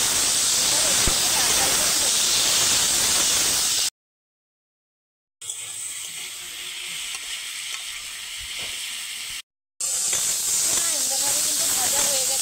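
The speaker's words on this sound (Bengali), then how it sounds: "টমেটো, আদা, রসুন একসঙ্গে দিয়ে দেব।" Onion, tomato, ginger and garlic fry in a pan with a loud, steady sizzle and hiss, cut off twice by short silent breaks.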